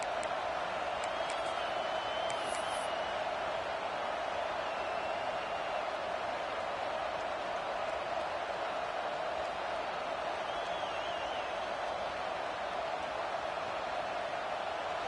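A steady, loud roar from a packed football stadium crowd at a Texas A&M versus Georgia game before a field goal attempt, a continuous wall of noise with faint whistles rising above it.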